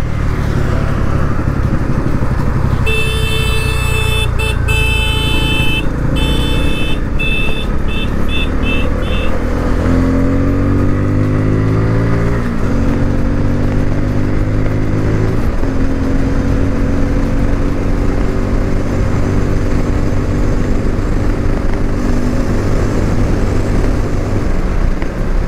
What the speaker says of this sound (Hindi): भाई क्या स्मूथ है इंजन